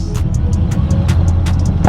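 Harley-Davidson V-Rod Muscle motorcycle engine rumbling while riding, a dense close low throb with a steady pulsing rhythm and a slight rise at the end, no talk.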